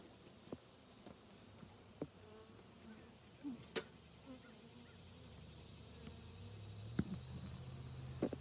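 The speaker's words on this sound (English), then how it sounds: "see if you see a bee come in here with pollen on its feet" Honey bees buzz around a hive in autumn, a faint steady insect hum with scattered sharp ticks and small knocks, one low drone rising near the end, all quiet and without talk.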